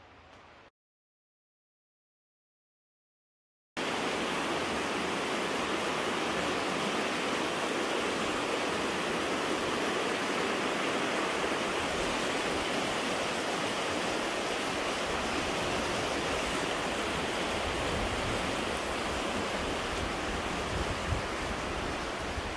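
A stream beside the Bluestone Turnpike Trail rushes in a steady, loud broadband wash that holds unbroken for nearly twenty seconds after a brief quiet start.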